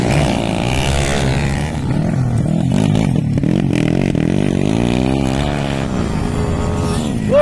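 Two-valve underbone motorcycles racing in a final at Valencia City, engines droning and shifting pitch steadily throughout, with a loud continuous buzz and no clear talk over it.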